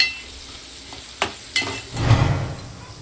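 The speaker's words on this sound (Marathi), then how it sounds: "इथे कोलंबी फ्राय बनते आणि इथे कोलंबी करी बनवते" Prawns frying in a pan in a home kitchen, a moderate sizzle with a couple of sharp utensil clicks and a swelling burst of frying noise near the end, no voices.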